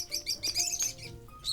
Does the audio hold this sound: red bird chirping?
yes